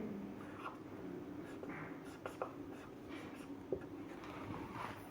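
Chalk or marker scratching on a board during a physics class, with short irregular strokes and a few sharp taps, fairly quiet against a steady room hum.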